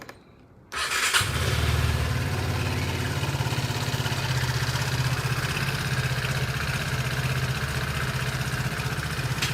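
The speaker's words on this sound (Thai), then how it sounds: "ฟังเสียงเครื่องครับ" A red 2015 Vespa Sprint 125 3Vie scooter with about 42,600 km on it fires up after a brief quiet moment, then idles with a steady, close, even engine putter, with no talking.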